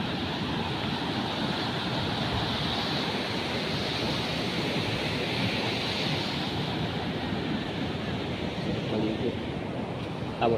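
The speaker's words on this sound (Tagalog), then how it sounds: "ang lalaki ng alon, yung talbog ng alon" Big ocean waves crash and surge onto a beach in a steady, loud roar with gusty wind noise, the surf rumbling continuously and close throughout.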